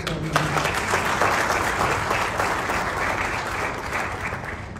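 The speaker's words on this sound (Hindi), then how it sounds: "मैं सागर नाते के लिए अनुरोध करूंगा, आप सभी तालियां बजाकर।" Audience applause after a call to clap for Sagar Nate at a Karni Sena national president's gathering in Bhopal, a dense, steady wash of many hands sustained throughout, with a brief voice at the start.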